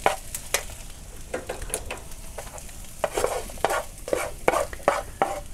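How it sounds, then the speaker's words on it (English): Raw mince, egg, onions and garlic being mixed by hand give soft, wet squelching and slapping sounds in an irregular rhythm, close up and fairly quiet. "we put them in with the mince and the egg. And we continue mixing."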